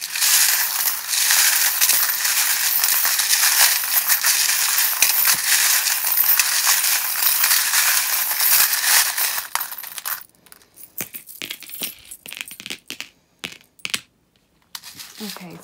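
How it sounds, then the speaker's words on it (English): Small metal charms clink and rattle loudly and continuously while tarot cards are shuffled by hand, then the shuffling breaks into sparse, scattered clicks and taps. "if you just generally don't like the sound of the charms, please turn the volume down while I shuffle because they can be a little bit loud sometimes"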